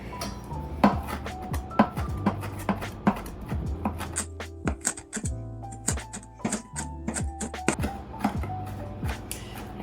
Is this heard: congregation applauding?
no